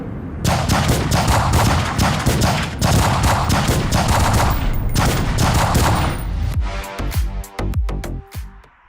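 Several shooters fire 9mm Sig Sauer P365 XMacro pistols at once, a loud, overlapping rapid volley of shots that thins out near the end into a few separate sharp reports.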